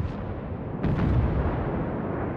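Heavy naval guns booming from a warship in World of Warships, a muffled salvo rolling out in the middle of the clip over a constant low ocean and engine rumble.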